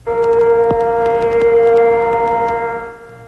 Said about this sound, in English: The air raid sirens went off at the U.S. base in northern Saudi Arabia